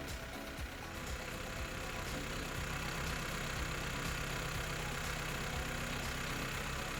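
A Yanmar YM series tractor with a front loader, its engine running at a steady idle throughout, a continuous dense mechanical drone that stays close and even with no talking.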